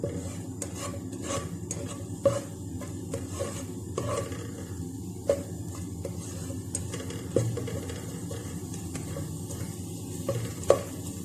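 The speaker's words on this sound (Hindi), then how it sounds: "मैंने एक पैन में 2 चम्मच ऑयल के डाल करके इसके अंदर लहसुन के कुछ कटे हुए पीसेस डाले हैं" Chopped garlic fries in about two spoons of oil in a pan, a soft, continuous sizzle broken by periodic scraping and clinks as it is stirred, close up and with no voices.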